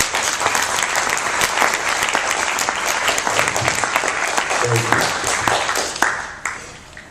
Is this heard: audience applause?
yes